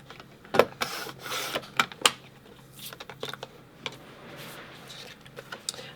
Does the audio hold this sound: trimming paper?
yes